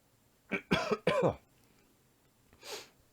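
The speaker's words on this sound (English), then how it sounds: "I need to cough again." A few harsh coughs in quick succession, close up, followed by a pause and one softer throat-clearing cough.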